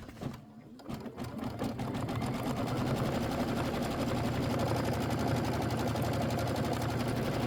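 An embroidery sewing machine stitches the cream background onto sprayed fabric. After a short start-up it settles into a steady, loud, rapid mechanical chatter that runs continuously to the end.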